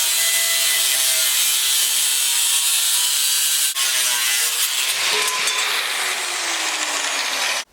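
Metal exhaust pipe on a straight-piped Dodge Viper being cut, a loud, continuous harsh grinding-saw whine that shifts in tone partway through and stops abruptly at the end.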